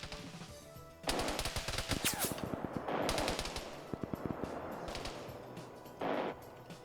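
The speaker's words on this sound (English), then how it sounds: "We're seeing the M134 starting to fire." An M134 minigun rattles off in a video game firefight, several rapid bursts of dense buzzing gunfire with short pauses between, loud and close.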